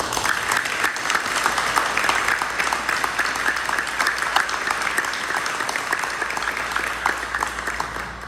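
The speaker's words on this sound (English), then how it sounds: "let's give him a round of applause" Steady applause from a roomful of people at a school board meeting, sustained and even for several seconds, fairly close with no voices standing out.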